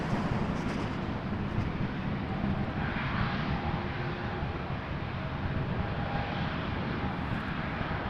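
Air Canada Airbus A220 jet at Toronto Pearson Airport, a continuous loud engine roar heard from a distance with no break, broad and rumbling throughout.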